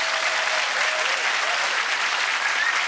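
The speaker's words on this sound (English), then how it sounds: "Give them a big round of applause" A studio audience at a game show gives contestants a big, continuous round of applause, dense and even from start to finish.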